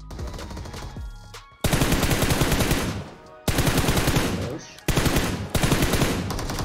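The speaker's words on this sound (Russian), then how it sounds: "Да, прям передо мной стреляет." Long, loud bursts of rapid automatic gunfire in PUBG Mobile, three sustained volleys close by with brief gaps between them.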